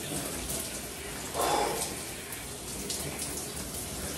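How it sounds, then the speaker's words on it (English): Water streams steadily from a morning shower, a constant broadband hiss lasting throughout, with a brief louder splash near the middle as the flow hits something closer. "Usually I just warm my body up at first with hot water, and then 5 minutes of straight cold water."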